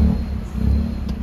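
Steady low engine rumble from a car creeping forward a short way, loud and close, with a faint rustle and no talk.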